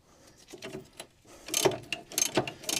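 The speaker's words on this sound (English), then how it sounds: "a little bit rusty, so we've gone in with a socket" Ratcheting clicks and metallic turning of a 14 mm socket wrench working rusty pad-carrier bolts on a first-generation Mazda MX-5 brake caliper, close and fairly loud, in short bursts that grow busier in the second half.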